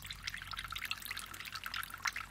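Water trickles and drips steadily in a small homemade fountain, a faint continuous splashing with light irregular droplet patter, heard up close with no voices.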